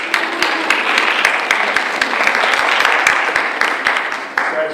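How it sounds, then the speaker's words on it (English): A room full of people claps for school board candidates at a PTA council meeting, a thick wash of applause with sharp individual hand claps standing out throughout. "You can give them a round of applause for the candidates."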